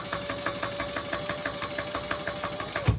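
A sewing machine runs fast and continuously while stitching a seam on a fabric shoulder bag, with a close, even mechanical whir and rapid needle knocking that stops abruptly with a thump at the end.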